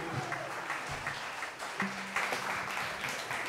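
An audience at a folk festival claps and applauds steadily at moderate distance, a dense patter of many hands, with a brief faint voice.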